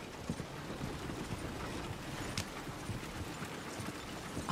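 Horse hooves clip-clop steadily along a road in the Red Dead Redemption 2 video game, a continuous even rhythm of close hoofbeats over a dense background bed, with no talk.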